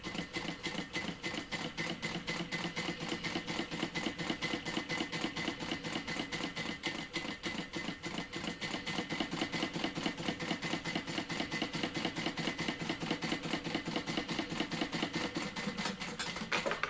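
A sewing machine bastes fabric for a crossbody bag with a long seam, its needle clattering in a fast, even rhythm that runs steadily and close throughout with no pauses.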